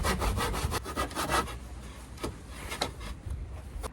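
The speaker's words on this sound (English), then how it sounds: "It's getting really difficult now because the saw just keeps getting stuck." A hand saw cuts through wood in short rasping strokes, quick at first and then slower and halting as the blade binds, heard close up with no talking.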